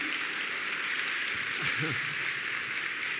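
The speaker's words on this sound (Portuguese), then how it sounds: "pode aplaudir mais rápido" Church congregation applauding at a service, a steady wash of clapping that runs throughout while a voice speaks over it briefly near the middle.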